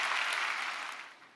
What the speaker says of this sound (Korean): 우리 미래준비팀 교육자들께 다시 한번 감사 박수 드리겠습니다